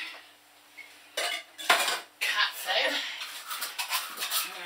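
Dry food clatters into a dish in a few bursts, with metallic scraping and clinking, close by and fairly loud.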